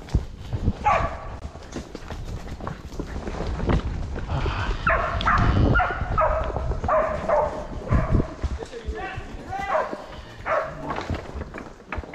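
Herding dogs bark in scattered bursts while stopping cattle on a mountain, over a busy outdoor scene with hoof clatter and rustling, fairly close and moderately loud.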